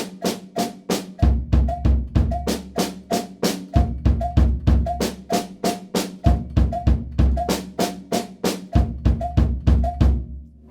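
A drum kit keeps a steady eighth-note pulse on the hands, with bass drum hits thumping in groups underneath, loud and close with no talking.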